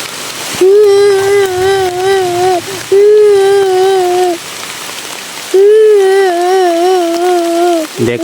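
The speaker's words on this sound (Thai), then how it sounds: "ยิ่งอยู่นานยิ่งฝนก็ตกหนาขึ้นทุกทีเลยนะครับ" Steady heavy rain pours down throughout, dense and continuous, while a child's high wailing cry rises in three long sustained bursts over the downpour.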